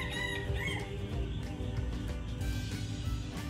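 A flock of ducks being let loose into a rice field makes steady, overlapping calls and clucks, loud and close, with no talking over them.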